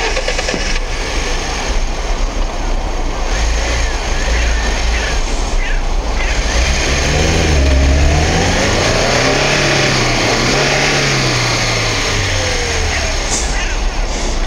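A 2019 Niva Urban 4x4 on sticky tyres, without the differential lock or low range, strains off-road: a loud, close engine revs and labours with rising and falling pitch while someone talks over it.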